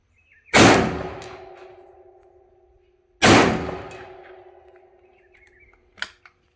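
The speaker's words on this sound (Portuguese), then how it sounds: "vou dar dois disparos, chumbo SG, lembrando que aqui é 16 polegadas e o choque é cilíndrico" Two heavy 12-gauge shotgun blasts with SG buckshot from a short 16-inch cylinder-choke barrel on an outdoor range, each a sharp loud crack trailing into a long ringing decay, about three seconds apart, then a faint metallic click.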